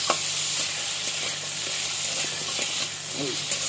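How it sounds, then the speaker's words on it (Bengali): Chopped onions fry gently in a very small amount of oil with no salt, giving a steady, even sizzle that holds close and continuous throughout with no voices. "এর মধ্যে সবগুলো একসঙ্গে আমি ভেজে নেব, হালকা, একদমই কম তেলে ভাজা হবে এটা।"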